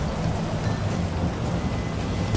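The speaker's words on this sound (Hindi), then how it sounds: "बारिश हो रही है फिलहाल।" Rain and thunder in the video game GTA V make a dense, continuous rumbling wash of falling rain with low thunder underneath, steady throughout and without speech.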